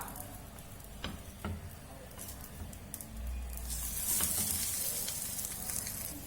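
Egg-dipped masala bread slices sizzling and frying in a pan, a steady close crackle that swells louder partway through as pieces are turned, with faint utensil taps and no speech.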